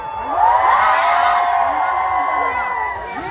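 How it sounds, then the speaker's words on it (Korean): Festival crowd of tourists at an outdoor spring cornflower and Korean beef festival in Yangpyeong cheers loudly and steadily, a dense mass of voices with whoops rising and sustained throughout. "관광객으로 오신 분들 함성"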